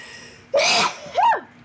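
A single sharp human sneeze, a sudden breathy burst followed by a quick higher vocal tail, close and loud in a quiet room.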